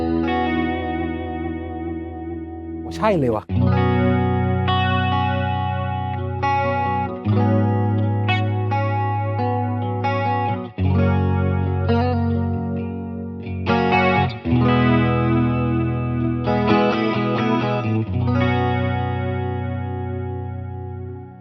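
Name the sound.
electric guitar with stereo chorus effect, Line 6 Helix Stadium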